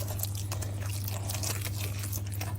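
Dough for lazy belyashi is stirred in a bowl with minced meat added, giving soft, wet, squishing and scraping sounds close up over a steady low hum.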